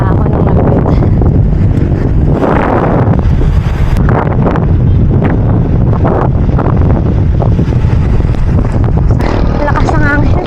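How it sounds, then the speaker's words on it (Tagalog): Strong wind buffets the microphone of a cyclist riding outdoors, loud rumbling gusts that roar steadily throughout, with a voice speaking intermittently underneath. "Lakas ng hangin."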